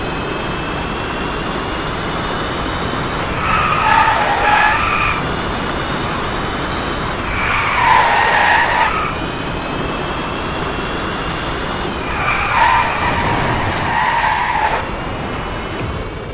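A race car in the Driveclub video game roars through three rising engine surges with tire squeal over a steady loud drone of road and engine noise.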